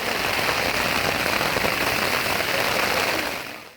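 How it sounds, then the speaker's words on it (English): Steady heavy rain pouring down at an outdoor football match in Cusco, Peru, a dense continuous patter filling the clip before fading slightly at the end, with no talking. "the rain was on and off for much of the match"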